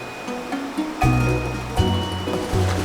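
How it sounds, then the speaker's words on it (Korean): A mountain valley stream winding around a village in rural Samcheok, Gangwon, flows with a steady close rushing wash, broadband and continuous, with a few brief louder splashes. "마을을 감고 도는 계곡 무릉천에도 들렀습니다"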